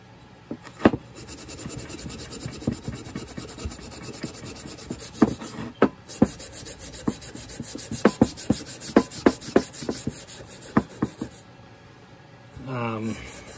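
Rust is scrubbed off an old No. 3 hand plane, a steady rasping rub punctuated by sharp scraping strokes and knocks, with a brief low rumble near the end.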